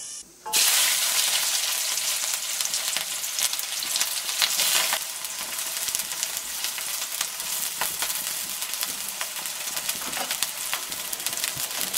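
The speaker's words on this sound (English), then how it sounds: "Once the oil has heated, we can add the onions and the chilies." Onions and chillies drop into hot oil left from frying fish for a tomato fish curry, the sizzle bursting up suddenly and holding loud and steady, with faint bird coos in the background.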